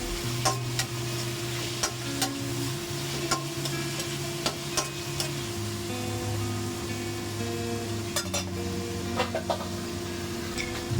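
String beans and pork sautéing in a pan, stirred steadily, with a continuous sizzle and frequent scraping clicks of the utensil against the pan over a low background hum.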